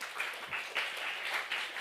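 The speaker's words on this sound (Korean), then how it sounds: "박수 한번 쳐줄까요?" A small audience at a church teaching session claps briefly and quietly, a soft patter of hands heard from some distance.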